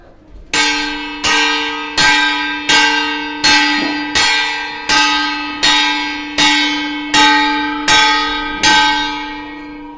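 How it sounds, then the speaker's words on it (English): A church bell striking about twelve times in a slow, even rhythm, each loud ringing stroke decaying into the next with a rich sustained tone. "The bell struck."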